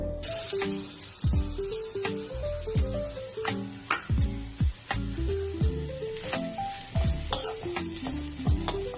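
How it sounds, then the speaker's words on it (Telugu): Grated carrot frying in ghee for a sweet, a close, crackling sizzle broken by repeated scraping stirs of a spoon against the pan at an irregular pace. "క్యారెట్ తురుము వేసుకొని పచ్చివాసన పోయేదాకా బాగా వేయించుకోవాలి."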